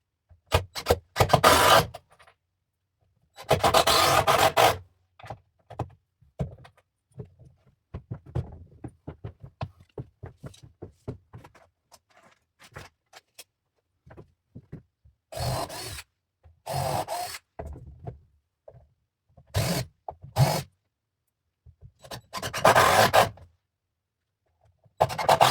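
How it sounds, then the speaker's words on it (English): Power drill boring countersink holes in barn floor wood, several loud bursts of whirring spaced apart, with quieter clicks, scrapes and handling noises between them, close up. "Countersink."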